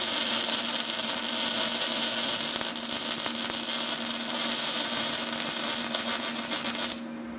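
A YesWelder DP200 multi-process welder lays a tall bead with a loud, steady crackling hiss and an underlying electrical hum, running continuously up close before cutting off near the end.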